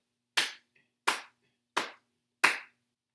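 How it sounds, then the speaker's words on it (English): Four sharp hand claps sound in a slow, even beat, evenly spaced and close, with a faint tap between the first two and no talking. "Let's clap this together."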